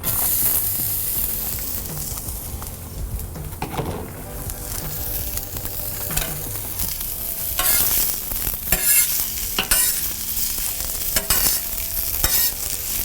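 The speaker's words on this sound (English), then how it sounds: "On with the onions." Onions sizzle loudly on a griddle plancha for cheesesteak sandwiches, a continuous close hiss broken by repeated spatula scrapes and taps against the metal surface that grow busier toward the end.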